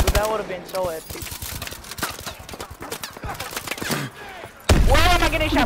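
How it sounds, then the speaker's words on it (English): Rapid bursts of automatic gunfire crackle through a Call of Duty Advanced Warfare match, with brief pauses between volleys before a louder close burst at the end. "Where am I getting shot by?"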